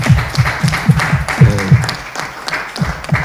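An audience applauds at a Congolese entertainment show, a short round of clapping with a low, regular beat underneath that suggests music playing at the same time.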